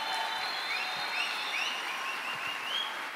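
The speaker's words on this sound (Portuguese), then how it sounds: "E eu queria só que a gente pudesse honrar com uma salva de palmas os meus amigos aqui" A church congregation applauds its ministers in a steady wash of clapping with some cheering, continuous and fairly loud throughout.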